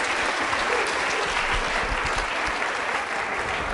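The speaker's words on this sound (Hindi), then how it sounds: "तालियां बजाइए मेघा जी के लिए जोरदार तरीके से" Loud, sustained applause from an audience at a school quiz show on Navratra, a thick continuous clapping with no break across the whole stretch.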